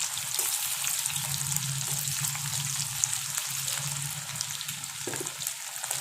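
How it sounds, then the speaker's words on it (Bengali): Thin bitter gourd chips fry in hot oil over a medium-low gas flame, giving a steady close sizzle and crackle with occasional stirring. "বাকি যেগুলো আছে সেগুলো আমি একইভাবে ভেজে নেব"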